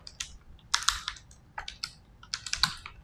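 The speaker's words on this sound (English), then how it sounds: "Let me just type it out." Computer keyboard typing comes in short, uneven bursts of sharp, close key clicks separated by brief gaps, with no voices.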